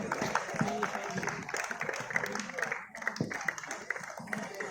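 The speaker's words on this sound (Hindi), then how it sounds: "तालियों में कंजूसी करोगे तो आप लोगों को मेडल देने में कंजूसी ऑर्गेनाइजर्स करेंगे" A crowd claps in welcome of a guest at a Republic Day football tournament, with dense, lively applause mixed with voices and chatter throughout.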